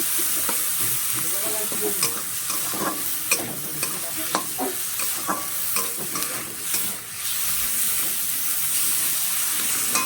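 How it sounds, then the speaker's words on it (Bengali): Capsicum and tomatoes fry in a pan with a continuous sizzle and hiss, punctuated by repeated scraping clicks of stirring, close and fairly loud, with no talking. "ক্যাপসিকামগুলো পুরো নরম হয়ে গেছে, টমেটোগুলো তো দেখাই যাচ্ছে না, এরকমভাবে ভেজে নিতে হবে।"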